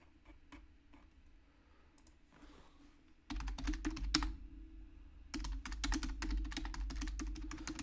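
Fast clattering keystrokes on a computer keyboard, starting sparse and quiet, then two dense, close bursts of rapid typing with a brief pause between.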